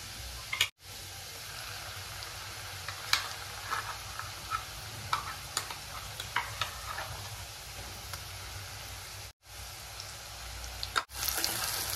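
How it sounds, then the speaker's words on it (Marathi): Spice paste and onions fry in oil with a soft, steady sizzle, and a spoon stirs with light scrapes and clinks. The sound is close but fairly quiet, with two brief dropouts and no talking. "आता हे छान परतून घेऊयात। मसाला छान परतून होत आहे।"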